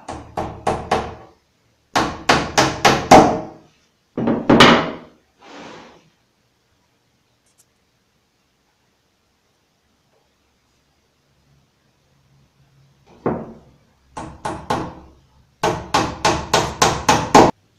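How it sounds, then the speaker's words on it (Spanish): A dowel is hammered into a melamine cabinet panel in four short clusters of quick, sharp taps. The clusters are separated by pauses and a long quiet gap. "y la vamos clavando"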